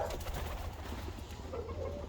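Ottoman Hünkari boğma pigeons coo softly, low throaty calls rising and falling in a quiet loft-like space, fairly faint and close.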